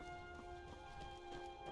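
A horse's hooves clip-clop in a steady, fast rhythm in Skyrim Anniversary Edition, faint and quiet beneath a sustained droning tone of game music.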